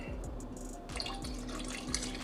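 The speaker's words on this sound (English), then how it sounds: "And we're going to add in a little Chardonnay." Chardonnay wine poured into heavy cream for a seafood lasagna sauce: a faint, soft trickle of liquid with light splashy detail and a low repeating thud underneath, brief and quiet.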